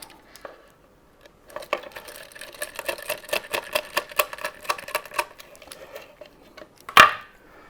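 Screws being driven to mount a connector for a flight simulator motion control rebuild, a run of rapid rattling clicks of a ratcheting driver, close, ending with a single sharp clack.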